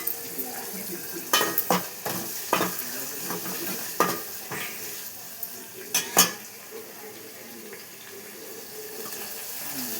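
Five or six garlic cloves fry quietly in a pan, with a soft sizzle under scattered clinks and scraping stirs of a utensil against the pan, loudest in a few sharp knocks.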